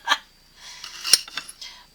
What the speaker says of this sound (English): I'm going to cut it into little strips.